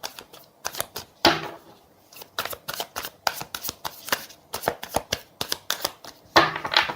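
Tarot cards being shuffled during a reading, a run of crisp riffling bursts and sharp flicks repeating in quick rhythm, close and fairly loud, with no voices.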